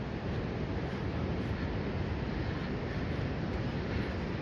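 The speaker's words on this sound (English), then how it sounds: "It's like a secret beach over here." Ocean surf at Cannon Beach rolls in as a steady, dense wash of broadband noise, with wind rushing across the microphone and no voices.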